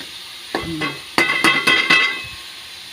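Pork and hard vegetables stir-fry in a pan, close scraping and clinking of a utensil in quick strokes over a low sizzle, arriving in short bursts with brief pauses.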